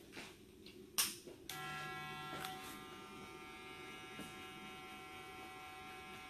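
BaBylissPro hair clipper buzzing steadily through a fade haircut, a constant close electric drone after a couple of brief clicks and bumps at the start, with no talking.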